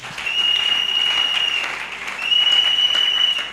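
A church congregation applauding: steady, sustained clapping from many people that stays loud and even for several seconds, dips slightly midway and swells again, with a faint high tone ringing above it.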